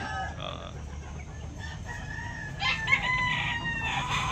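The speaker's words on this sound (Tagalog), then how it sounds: "Maraming mga magagandang manok dito mga kabakyard." Backyard chickens cluck while a rooster crows, with short repeated calls standing out over a low steady background and a louder burst of crowing near the end.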